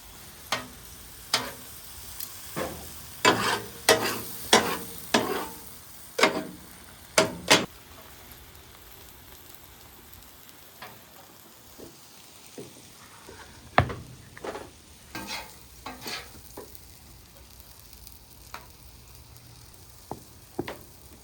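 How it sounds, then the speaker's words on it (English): Steak is tossed back and forth in sauce on a Blackstone griddle, with a faint sizzle beneath a series of sharp scraping and tapping clicks from the spatula, busier early and then sparser. "look how I'm just tossing this steak back and forth. We're only about 110 degrees, which is perfect. And it's just coating in that sauce."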